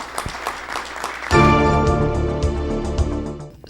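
Audience applause closing a Spanish-language television panel on internet blogs, starting as scattered claps and then swelling into a loud sustained burst mixed with a bright musical tone that fades toward the end.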